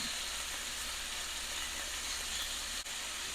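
Meat browns in a cooking pot on the stovetop for tamales, a steady close sizzle and hiss that runs unbroken with no voices.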